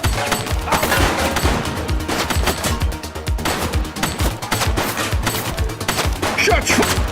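Rapid, sustained gunfire from the police video game The Precinct, with dense overlapping shots and bursts crackling steadily for several seconds at close range with no pause.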